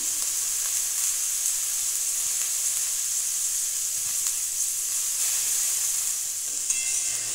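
Cabbage and mixed vegetables fry in a pan with a steady, bright hiss of sizzling oil, close and continuous, broken by a few faint clicks of stirring.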